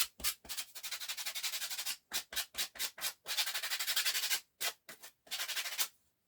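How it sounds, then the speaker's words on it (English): Sandpaper rubbed by hand across the bottom of wooden candlesticks, loud close rasping strokes in short rhythmic bursts separated by brief pauses. "Give them a bit of a sand on the bottom."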